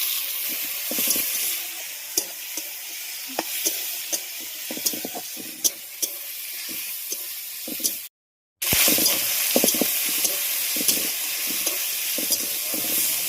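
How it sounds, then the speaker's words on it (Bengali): Crabs sizzle in hot oil with onion, garlic and green chilli, a continuous close frying hiss broken by repeated scraping stirs and clinks, with one brief dropout midway and no voices. "এর মধ্যে দিয়ে দিচ্ছি এবার কাঁকড়াগুলো।"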